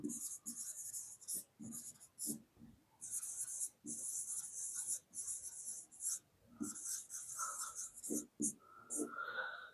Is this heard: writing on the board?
yes